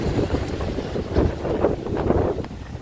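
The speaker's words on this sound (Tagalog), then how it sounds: "nag-uulan at ang lakas ng hangin" Strong gusting wind buffets the microphone on a stormy, rainy day in the streets of Kilkenny, Ireland, a continuous low roar swelling and easing in waves with no voices.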